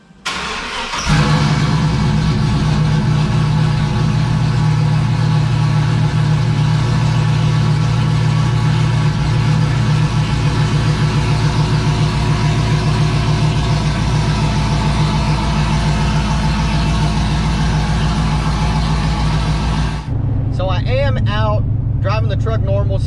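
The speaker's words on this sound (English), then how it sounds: "We're going to go do some test drives, do a couple of test hits, maybe a few burnouts." A cammed 2003 5.3-liter truck engine runs steadily and loud throughout, a constant low rumble of driving with a lumpy idle character, easing off near the end as the drone quiets.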